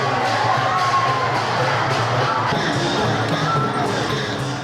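A crowd cheers at a Burmese paper fire-balloon festival as a balloon rises, a steady loud roar of many voices with scattered shouts throughout.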